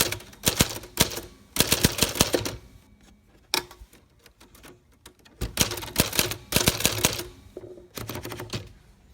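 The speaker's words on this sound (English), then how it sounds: "Now for a quick typing test." A manual typewriter is typed on in a quick test after typeface alignment adjustments, with rapid clattering keystrokes in several bursts separated by short pauses, close and clear.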